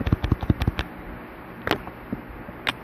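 Gunshots in the PlayStation game Silent Hill ring out as a quick burst of about seven sharp cracks, then a few sparser single shots follow after a pause, fairly faint and alone.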